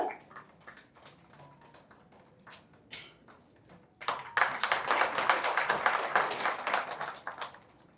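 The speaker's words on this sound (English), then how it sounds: "Let's all put a big round of applause for our amazing actor, Sri Kollam Tulasi sir" Applause for actor Kollam Tulasi at a stage event: scattered taps and light claps at first, then a sudden swell into full, dense audience clapping that holds for several seconds before easing off.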